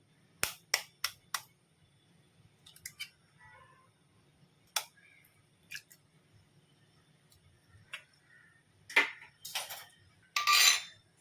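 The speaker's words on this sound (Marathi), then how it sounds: "यात मी आता अंडी जी आहे ती फोडून घालणार आहे" Eggs cracked into a bowl while making a Goan ros omelette, heard as sharp isolated taps and clicks of shell against the bowl's rim in a quiet kitchen, followed by a few louder scraping clatters near the end.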